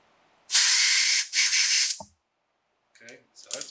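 An air compressor blow gun forces air through a motorcycle fuel part in two loud, close hissing bursts, followed by a few faint clicks and short, softer puffs.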